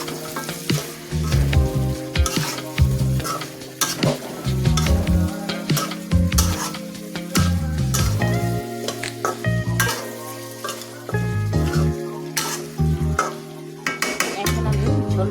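Potatoes frying with chicken curry in a pan, a loud continuous sizzle broken by repeated scraping and stirring clatter from a spatula against the metal pan.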